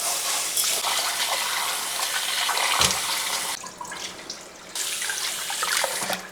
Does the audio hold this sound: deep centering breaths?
no